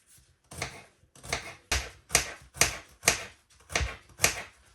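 A kitchen knife slices garlic into thin rounds on a cutting board, eight crisp evenly spaced chops in a steady rhythm, close and distinct, with no speech.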